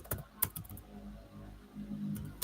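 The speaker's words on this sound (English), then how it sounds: "I'll type this" Quick typing on a computer keyboard, with a few sharp, irregular key clicks and a steady low room hum underneath; no one speaks.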